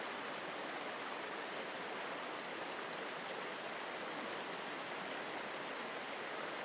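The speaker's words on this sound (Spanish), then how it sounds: "se disuelva en el sonido de la cascada" A waterfall roars as a steady, dense broadband rush, continuous and even throughout with no other sounds, in a deep-sleep relaxation setting.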